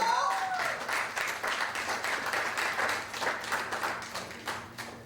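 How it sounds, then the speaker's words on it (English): An audience at a 2019 lecture event in Jacksonville breaks into sustained applause, a dense wash of clapping that holds steady for the whole stretch with some voices mixed in. "Let's give her a round of applause."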